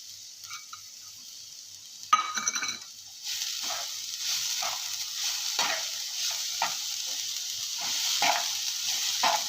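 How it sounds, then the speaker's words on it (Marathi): Coconut and jaggery filling for steamed modak being stirred in a pan, with a steady soft sizzle and repeated scraping strokes of the spoon close by, no talking. "ते चांगलं असं मिक्स होईपर्यंत परतायचं"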